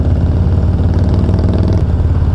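Harley-Davidson motorcycle with Stage 1 tune, Screaming Eagle intake and Reinhardt exhaust, its engine running steadily with a deep, loud, close rumble throughout and no voices.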